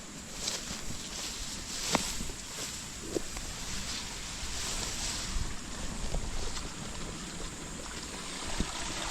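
Cold wind blows steadily outdoors ahead of a storm, a broad rushing noise with occasional buffeting gusts against the microphone, and a faint background hiss.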